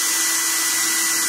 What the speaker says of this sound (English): I am going to shut this down to go get the blow dryer